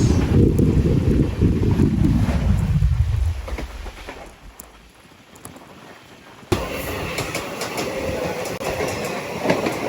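A passenger train rumbles along, loud low roar fading out as it passes the Brindavan Express near Katpadi Junction, then a sudden burst of rattling carriage noise and wind buffeting close by.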